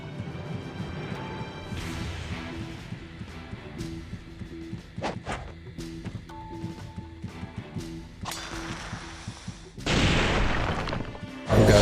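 Bursts and crashes go off in Ninja Gaiden Sigma over a steady music bed, with a loud rushing blast near the end.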